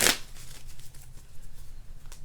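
Tarot cards are shuffled in a quick burst, a sharp riffle at the start giving way to a soft, continuous papery rustle close by.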